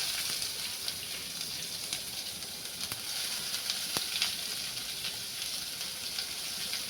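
Chopped onion hitting hot oil already crackling with curry leaves, a steady close sizzle and spatter with a few sharp pops, low gas, no voices.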